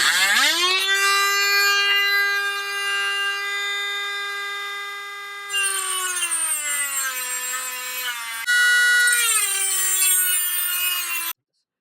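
Dremel grinding grooves into stuck carburetor screws on a 50cc Chinese scooter, a loud close high-pitched whine that holds steady, dips in pitch under load and resumes in several bursts.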